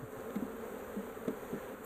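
A honey bee swarm buzzes close by, a dense continuous drone with individual bees flaring louder as they pass.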